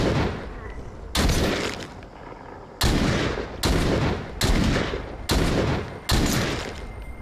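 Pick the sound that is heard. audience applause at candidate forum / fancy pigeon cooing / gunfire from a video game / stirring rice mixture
gunfire from a video game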